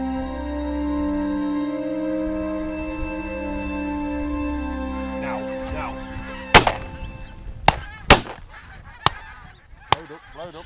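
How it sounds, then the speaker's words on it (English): A flock of geese flighting in over fields in Scotland, honking steadily and continuously, with several sharp, loud reports breaking through in the second half. "Yeah, we're flighting geese, no decoy"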